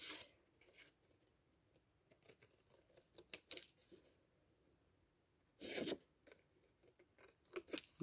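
Scissors snip through fabric squares cut for a storage pouch, with a series of close, quiet, crisp cuts and one louder rustle partway through, no voices.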